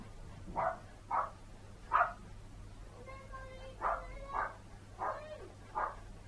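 A dog barks repeatedly at a distance, in spaced single and double woofs over a low steady hum, with a faint tone in the middle.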